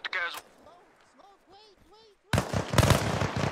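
Gunshots in the military shooter game Arma Reforger, a sudden loud dense burst of rapid fire after a quieter stretch with scattered distant sounds, and voices talk around it.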